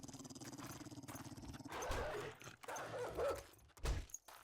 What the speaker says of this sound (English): I hear me a couple of dogs.